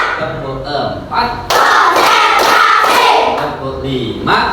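Classroom group hand clapping led by a teacher, a few separate claps followed by a loud, sustained burst of rhythmic clapping from many hands, close and energetic with voices mixed in.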